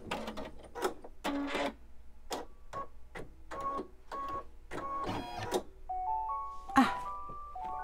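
A home embroidery machine stitching a smiley face onto a baby bib, giving rapid bursts of mechanical whirring and clattering, then a series of electronic beeps and chimes as the design finishes.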